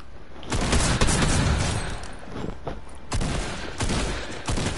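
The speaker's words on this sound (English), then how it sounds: "He had a drum shotgun." Rapid bursts of drum shotgun fire in a Fortnite-style battle royale game, loud, close blasts repeating in a dense volley with several sharp reports standing out, no talk.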